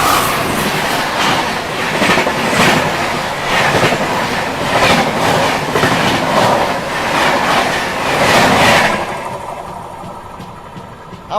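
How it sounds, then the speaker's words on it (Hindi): The Ahmedabad Double Decker Express rushes past close by on an Indian main line, a loud continuous rumble with rhythmic wheel clatter and pulsing surges that fade away near the end. "सामने से आ रही है Ahmedabad double decker express web 4 के साथ 130।"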